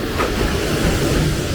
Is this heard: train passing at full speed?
yes